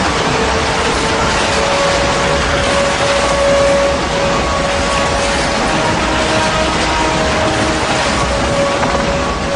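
Recorded vibrations of the earth resembling a roaring engine: a loud, dense, continuous mechanical rumble and grinding drone with a faint steady whining tone, sustained without pause throughout.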